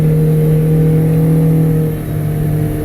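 The engine of a Smokercraft 172 Osprey boat drones loud and close at cruising speed, lugging slightly with a steady hum and a brief dip in level near the end.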